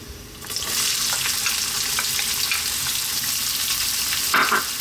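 Onion added to hot oil infused with whole spices, setting off an immediate loud, close sizzle that stays dense and constant.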